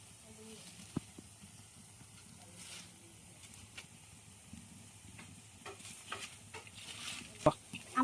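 Lentil and vine-leaf fritters, eight at once, frying in oil in a pan give a steady low sizzle, with occasional clicks and scrapes of a utensil growing louder toward the end.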